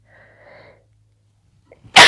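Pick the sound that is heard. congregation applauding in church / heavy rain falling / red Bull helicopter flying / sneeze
sneeze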